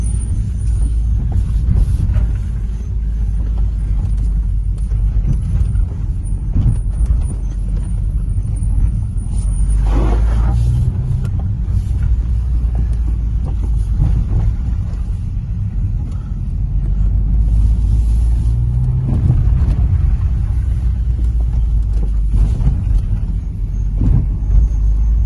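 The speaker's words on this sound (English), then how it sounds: "I've just thrown you at 30 seconds of me going around the little skid pan there." Smart car driven in circles around a small skid pan, a steady low engine and road rumble continuing throughout with slight swells in intensity, no voices.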